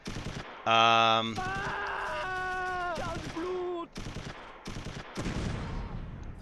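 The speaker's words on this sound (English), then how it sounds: "Heavy machine gun" Heavy machine gun bursts in the WWII strategy game Close Combat III, loud broadband rattles near the end, mixed with tonal game sounds and voice-like cries earlier.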